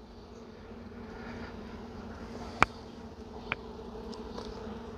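Honeybees drone steadily inside an active hive, a continuous close buzzing hum with a couple of brief sharp clicks or knocks standing out partway through.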